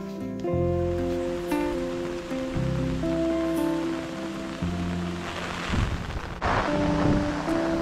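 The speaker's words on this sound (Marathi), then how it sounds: "पाऊस भन्नाट आलाय।" Heavy monsoon rain pours steadily over a Konkan garden of newly planted saplings, a continuous dense hiss that stays loud and unbroken throughout with no voices.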